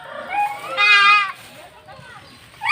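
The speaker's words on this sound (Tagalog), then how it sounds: "Titirahin na yung dalawang kambing." A goat about to be slaughtered gives a loud, close, wavering bleat, with a fainter bleat after it. People talk around it, and another sharp animal cry comes at the end.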